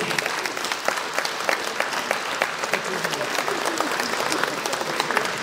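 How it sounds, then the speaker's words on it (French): Guests at a festive municipal social-services meal applaud the town team, a dense, steady wash of many hands clapping throughout, close and lively with no speech on top. "vous pouvez les applaudir"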